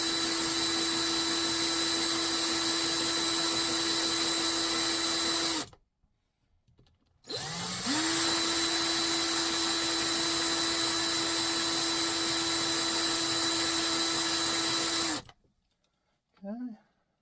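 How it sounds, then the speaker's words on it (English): A power drill bores out rivets on a Peterbilt truck's show fenders, giving two sustained loud whining runs separated by a short pause, with a brief squeal at the end. "Now to get these show fenders off, you gotta drill out these two rivets"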